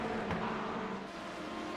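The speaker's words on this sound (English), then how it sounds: "LMP2 cars are passing." LMP2 prototype race cars in an iRacing IMSA sim race sweep past with a steady, dense engine roar that holds for under two seconds, no voices.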